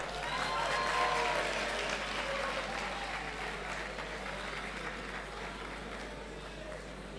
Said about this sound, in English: So you can clap for him now.